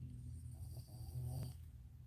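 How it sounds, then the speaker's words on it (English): A woman snoring, a low, rasping drone in a slow rhythm that swells into a louder snore before fading, quiet and close. "she's snoring"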